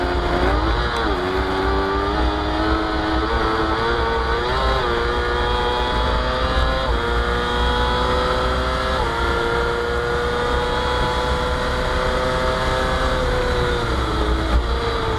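F2 racing sidecar engines screaming past at Donington Park, a loud sustained high-revving whine with rising and falling pitch as gears change, one engine bouncing off the rev limiter down the start-finish straight.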